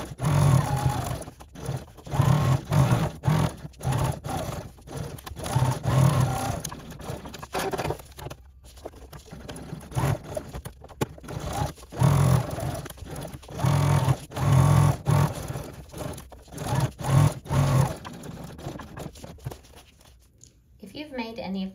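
A sewing machine runs in repeated bursts, stitching the zipper seam of a lined pouch with a woven exterior, its motor whir starting and stopping close by with a few short pauses between runs.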